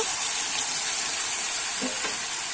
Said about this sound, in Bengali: এবারে ভেজে রাখা আলু, ঝিঙে আর চিংড়ি মাছটা কিন্তু আমি একসঙ্গে দিয়ে দেব।